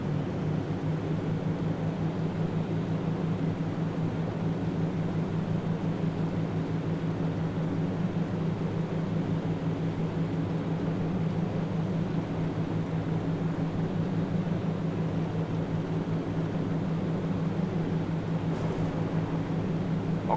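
A steady, droning engine roar and rushing noise as a plane in Flight Sim World runs at full throttle on its takeoff roll, constant and unbroken throughout.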